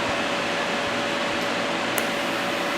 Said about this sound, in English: Blow it off with the CO2.